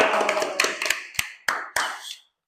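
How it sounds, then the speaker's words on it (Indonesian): Applause for a contestant who passed TOEFL at a quiz competition: a short burst of hand clapping that thins into a few scattered, separate claps before fading to silence. "Tepuk tangan dong buat yang TOEFL-nya lulus."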